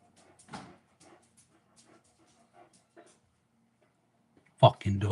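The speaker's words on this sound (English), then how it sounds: "She's barking at absolutely nothing." A dog barks at nothing indoors: scattered short yips and barks come through in the first three seconds, fairly faint and spaced, then a louder thumping burst near the end.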